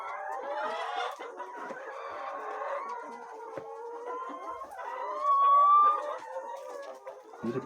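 Laying hens and a rooster on a poultry farm cluck steadily and close by, with a loud crow rising near the end over the ongoing clucking.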